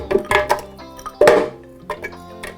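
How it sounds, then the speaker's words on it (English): Frozen pineapple chunks drop into a blender jar in a quick series of hard clunks and clinks, close and fairly loud, with no talking. "So first I'm going to begin by putting in my frozen pineapple."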